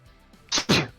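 A person sneezes once, close and loud, a quick inhaled catch followed by a sharp burst, against a quiet background.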